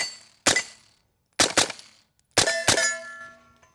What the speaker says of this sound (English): Let's shoot that plate.